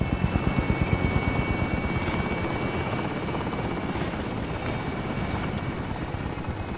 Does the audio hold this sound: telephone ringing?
no